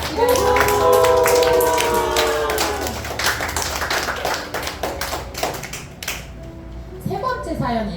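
Audience at a church youth radio-style event claps as a young woman returns to her seat, brisk applause and taps mixed with a tonal backing and some voices, tapering toward the end.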